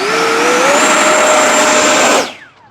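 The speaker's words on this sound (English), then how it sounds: "Okay, here we go, full throttle." An FMS Yak 130 70mm electric ducted-fan RC jet screams at full throttle, a loud steady high-pitched whine that rises slightly in pitch, holds, then spools down abruptly near the end.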